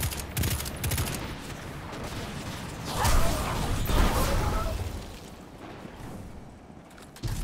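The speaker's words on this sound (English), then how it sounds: "he started firing planetary cannons" Planetary cannons firing in the video game Destiny 2: a dense, sustained barrage of rattling mechanical blasts and booms that swells in the middle and fades toward the end.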